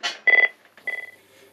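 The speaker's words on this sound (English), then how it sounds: "And that's the phone." A telephone rings in a leather workshop that makes motorcycle clothing: two short, trilling electronic ring bursts, close and clear, with a brief gap between them and no talk.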